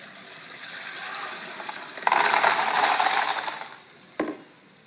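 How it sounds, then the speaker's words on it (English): Brass cartridge cases and polishing media poured into a separator for brass polishing, giving a rattling, gushing metallic cascade that swells midway, runs for over a second, then ends with a short clatter. "I'm going to pour the brass and the media into the separator."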